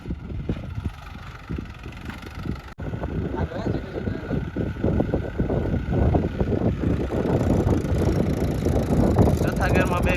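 A Mahindra Bhoomiputra tractor engine chugs steadily in fourth gear, a close, rhythmic diesel throb that grows a little louder after a brief dropout, with wind buffeting and someone talking over it.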